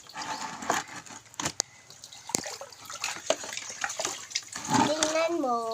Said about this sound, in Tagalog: Planggana lang ako ligo.